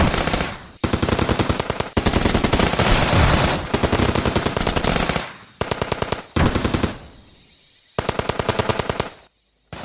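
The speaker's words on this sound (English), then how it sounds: "the effective mortar rounds were followed by an eruption of small arms fire" Loud, rapid bursts of small arms gunfire in a Vietnam War tabletop wargame rattle in long automatic volleys, broken by brief pauses, close and intense throughout.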